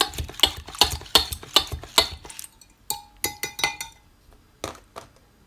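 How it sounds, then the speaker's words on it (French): A utensil beats eggs with peppers and onions in a bowl for an omelette, giving a quick run of close clinking strokes followed by a few scattered taps. "on rajoute tout ça dans les œufs, on va mélanger"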